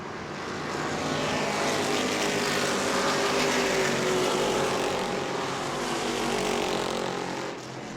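Race cars roar past on the New Smyrna oval as leaders lap a slower car, a loud sustained engine drone swelling and holding steady throughout without voices.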